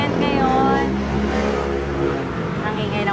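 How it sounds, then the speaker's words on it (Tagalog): A motorcycle engine on a busy Bangkok street revs and drones up close, rising and falling in pitch over steady traffic rumble for about three seconds. "nangingay ng motor."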